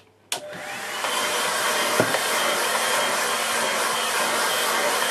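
A hair dryer switches on with a click and then blows in a steady, loud, continuous whoosh, drying a watercolour painting, with no talking over it.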